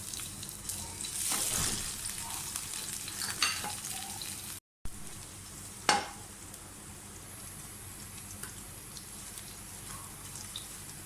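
Green chilies fry in hot oil in a pan for spicy noodles, with a continuous soft sizzle and a few sharp clinks of stirring at close range.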